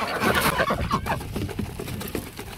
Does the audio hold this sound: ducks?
yes